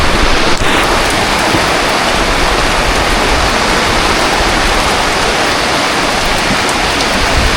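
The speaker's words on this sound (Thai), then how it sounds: "ฝนตกนัก" Heavy rain pours down in a dense, loud, unbroken hiss that fills the whole stretch, with no voices heard.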